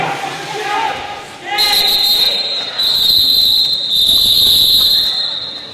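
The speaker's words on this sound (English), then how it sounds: "And those whistles signal the end of that jam." Long, shrill referee whistle blasts at a roller derby bout, two or three sustained tones in a row ringing over crowd noise and talk.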